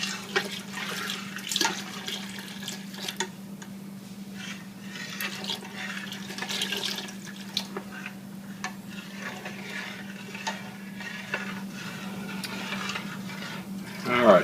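Milk stirred in a pot on the stove for chicken corn chowder, soft intermittent swishing and scraping close by over a steady low hum, with occasional light clinks.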